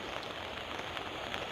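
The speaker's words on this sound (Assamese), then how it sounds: "বৰষুণ পৰিয়ে আছে অলপকৈ" Light rain falls steadily in a flooded village, a soft continuous patter, faint and even throughout, with no talking.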